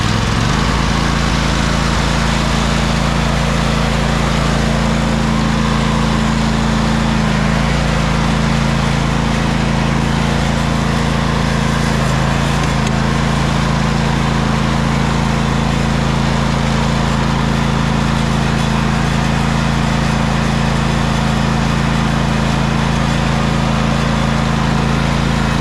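Old, beat-up tractor engine idling in a loud, steady drone with a low throbbing hum throughout, close by and with no voices.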